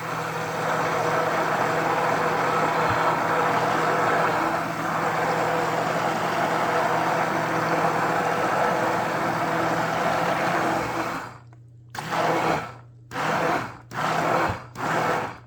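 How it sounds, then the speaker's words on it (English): An immersion blender makes pumpkin pie filling with a loud, steady motorized whirring for about eleven seconds, then cuts into several short bursts separated by brief silences. "is an immersion blender"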